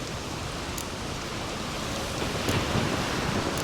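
Steady, dense rain with a thunderstorm rumbling in The Witcher 3 video game, a continuous wash of noise with no voices.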